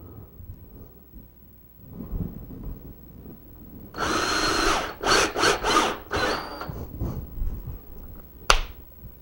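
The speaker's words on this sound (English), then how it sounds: "And I'm going to put some 5/8 long screws in this." A power drill drives 5/8 inch screws into a wooden crosscut sled, starting with a sustained whir and then breaking into several short bursts of revving, followed by a sharp clack, all close and loud with no talking.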